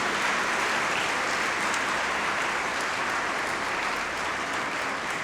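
A church congregation breaks into loud, sustained applause at a Sunday Easter-season Mass, with dense clapping filling the space evenly from start to finish and no voices over it.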